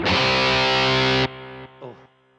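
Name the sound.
electric guitar with 80s style intense distortion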